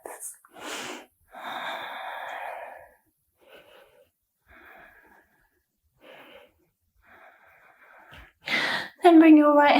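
Slow, deep breaths during a yoga practice come as audible inhales and exhales with a few breathy sighs, separated by quiet gaps, close and intimate, with a short voiced sound near the end.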